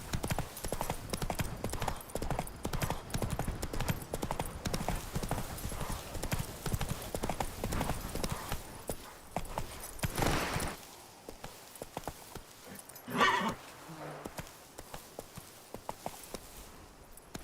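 Horse hooves clip-clopping steadily in The Witcher 3 Blood and Wine, loud and continuous for about ten seconds, then thinning out to scattered hoofbeats with a brief snort or whinny near the end.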